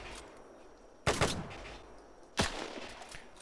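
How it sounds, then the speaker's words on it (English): Two loud bursts of World War II video game gunfire, each a sharp rapid volley that rings and fades, with quiet stretches between them. "Shooting at us."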